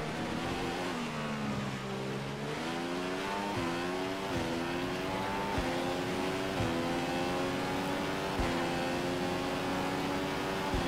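Race cars in the F1 2015 video game at the Italian Grand Prix, engines revving and shifting up through gears as a pack runs close together, a loud continuous high-pitched whine with rising tones and no talking.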